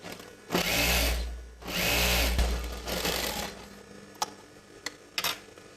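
A tailoring sewing machine stitches chudidar gathering pant pieces in two strong, close runs of rapid whirring, each followed by quieter taps and clicks as the fabric is adjusted.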